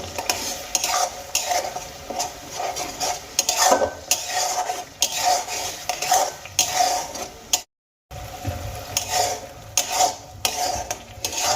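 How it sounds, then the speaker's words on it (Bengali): Onion paste fries in a pan with a constant close sizzle, broken by repeated scraping and knocking of a spoon against the pan as it is stirred, and one brief moment of silence partway through. "পেঁয়াজের পেস্টগুলোকে আমি 2 মিনিটের মতো খুব ভালো করে ভেজে নেব।"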